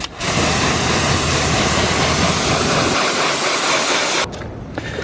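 Steady, loud spray of water hits a car wheel and brake caliper for about four seconds, a broad hissing wash that cuts off abruptly, leaving a quieter tail.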